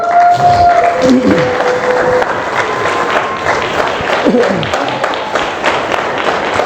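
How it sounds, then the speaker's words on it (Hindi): A crowd applauds unevenly at a motivational seminar, a steady wash of mid-distance clapping with a few distinct claps standing out and faint tones and voices mixed in. "तो आप तालियां बजा रहे हो ना रुक रहे हो यार, या तो बजाओ तो ढंग से बजाओ, नहीं तो मत बजाओ।"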